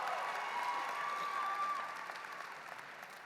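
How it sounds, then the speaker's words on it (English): At a high school graduation ceremony, an audience applauds honored school staff. The clapping is moderate and fairly distant in a large hall, and it slowly fades. "You may applaud them."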